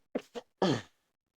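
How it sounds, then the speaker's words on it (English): A single sneeze, near and loud: two short sharp intakes of breath followed by an explosive burst, then silence. "I feel like I gotta sneeze"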